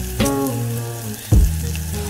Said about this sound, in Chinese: 先煎至定型